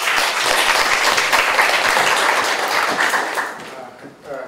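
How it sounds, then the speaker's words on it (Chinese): An audience at a human rights talk welcomes a speaker with dense, loud applause that holds steady for several seconds, then thins out and fades near the end. "我们掌声欢迎他"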